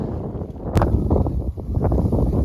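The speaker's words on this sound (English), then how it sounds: "Okay, it's windy" Steady wind buffeting the microphone at a Pacific Crest Trail campsite, a low rumbling roar with gusty swells throughout.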